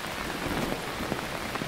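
Rain falls on a camping tent in a steady, dense patter, soft and continuous with no voices.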